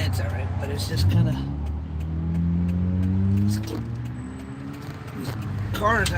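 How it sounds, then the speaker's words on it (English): Cars pass along the road with a continuous engine and tire drone that swells and shifts in pitch, while a voice talks over the traffic. "Got 2 cars coming."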